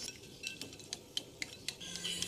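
Melting margarine is stirred in a pot for a sponge cake, with a spoon clinking lightly against the metal in a quick, irregular series of soft ticks over a faint background hum.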